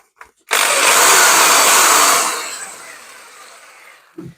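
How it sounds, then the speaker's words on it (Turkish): An electric drill powered from an inverter whirs loudly and steadily for a couple of seconds, then gradually winds down and fades. "Öncelik olarak matkapla başlarsam"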